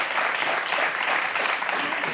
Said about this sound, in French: Vous pouvez applaudir, c'est bien.